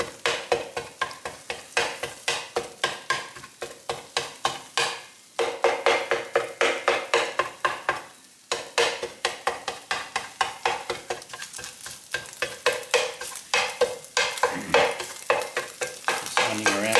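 A spatula repeatedly chops and scrapes egg in a hot pan as it fries for fried rice, giving steady rhythmic metallic taps over a continuous sizzle, close and fairly loud throughout with two brief pauses.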